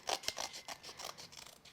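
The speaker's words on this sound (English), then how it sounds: "I'm going to go back in with my scissors." Scissors snip steadily through thick double-layered cardstock, a quick run of close, crisp cuts and scraping blade sounds with no talking.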